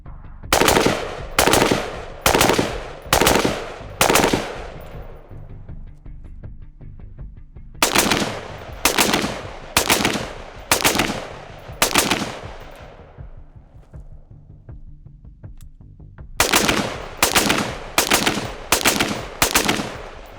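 Rifle fire at man-size USPSA targets 35 meters downrange comes in three strings of about five loud, evenly spaced shots each, with a short ringing tail after every shot and pauses between strings.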